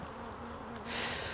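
Honey bees buzz close by at an angry hive being requeened, a steady insect drone with a faint tonal hum and one brief click partway through.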